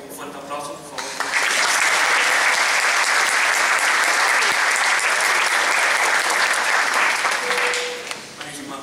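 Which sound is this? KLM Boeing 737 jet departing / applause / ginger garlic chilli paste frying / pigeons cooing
applause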